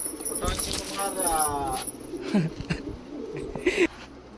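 Pigeons at a pigeon sale in Kolkata give a few soft, low coos amid handling noise and background sounds, with a voice nearby.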